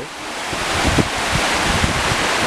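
A small waterfall beside a pond in a botanic garden gives a dense, continuous rush of splashing water, loud and close, with wind buffeting the microphone.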